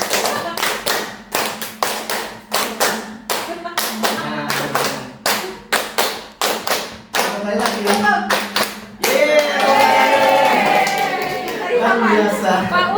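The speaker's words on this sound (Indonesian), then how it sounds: "Tepuk 5 kali." A group claps together in sharp, rhythmic bursts, pausing between sets, then breaks into loud continuous applause and cheering chatter.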